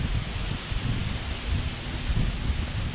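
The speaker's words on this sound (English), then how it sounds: "it's a very windy day" Strong wind on a windy, sunny day outdoors, gusting in low rumbling buffets against the microphone with a steady airy hiss above, swelling and easing irregularly over a few seconds.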